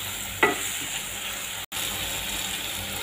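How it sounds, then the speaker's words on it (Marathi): Round slices of capsicum fry in a pan with a steady, close sizzling hiss throughout, broken by a brief stirring clatter near the start. "2च शिमला मिरच्या मी अशा गोल कापून घेतल्या, त्या छान अशा फ्राय करून घेते।"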